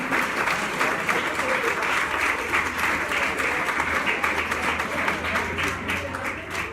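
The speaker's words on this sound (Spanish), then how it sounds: "el aplauso para Jorge por ese brindis que nos va a dar" Sustained audience applause in honor of Jorge at a public speaking event, a dense, steady wash of many hands clapping at close range for the full stretch with no break.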